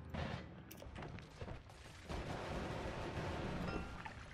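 Rapid crackling blasts like small fireworks go off in the video game Noita, a dense burst of booms and pops that keeps rumbling on without pause.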